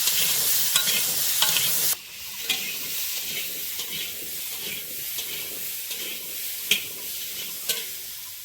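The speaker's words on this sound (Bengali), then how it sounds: "আমি এই কুমড়োগুলো একবার একটু ভেজে নেবো" Pumpkin pieces fry in hot oil for a fish curry with a steady sizzle, loud at first and dropping lower after about two seconds. Light stirring scrapes and taps run through it.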